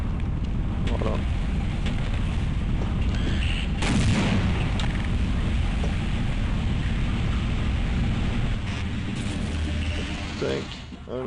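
A grenade goes off in Half-Life as one sharp, loud blast. Constant mechanical game noise runs around it, and a voice talks over the scene.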